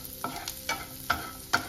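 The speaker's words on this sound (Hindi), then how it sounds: "जब बटर हमारा गर्म हो गया है तो हम डालेंगे अपना चॉप गार्लिक यानी कि लहसुन" Chopped garlic sizzling in hot butter in a pan on a high flame, a soft steady hiss broken by four evenly spaced spatula scrapes, close and fairly quiet, with no voices.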